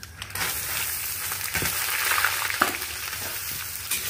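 Chopped potatoes and whole cumin seeds frying in a pan give a steady, close hiss of sizzling oil, broken by a few sharper crackles and stirring scrapes, with no voices.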